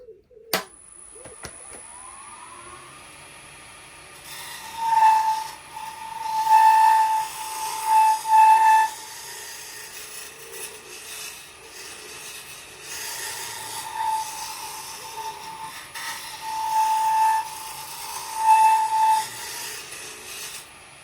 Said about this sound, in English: This is what they call a shear scraper.